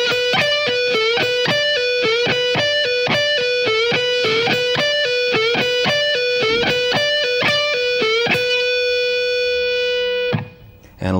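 A distorted electric guitar rock lick repeats twice in a row, a long steady stream of rapid picked notes that closes on a ringing held note, loud and near with no voices.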